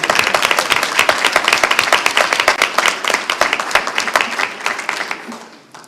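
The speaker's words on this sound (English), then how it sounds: "Let's give her another round of applause." A crowd at a school board meeting applauds loudly and close, a dense, even burst of many hands clapping that holds steady before tapering off at the end.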